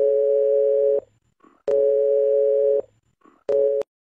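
A telephone line tone while a number is being called: a steady electronic hum in three bursts, each about a second long with short pauses between them, clear and alone.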